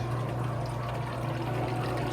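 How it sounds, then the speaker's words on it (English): A Whirlpool washer's drain pump pushes water out at the end of the wash cycle, giving a steady, continuous hum and low whir with a rushing flow of water throughout, constant in level and fairly close. "It's about to kick that drain on."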